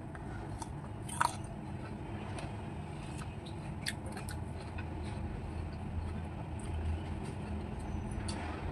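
Someone bites into and chews a red-fleshed fruit, with soft, steady crunching and mastication running through the whole stretch, close but faint against a low background rumble.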